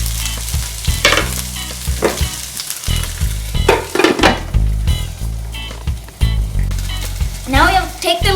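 Mixed vegetables sizzling and frying in a pan while being stirred, loud crackling with repeated scraping strokes of a utensil throughout, lid handling near the end.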